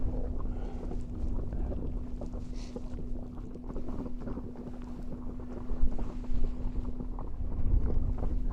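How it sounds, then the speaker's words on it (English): Steady wind gusting over a bay of Lake Kipawa, Quebec, a broad rushing roar with a low hum underneath and rising buffets near the end, heard alone with no voices. "Wind is blowing pretty good here."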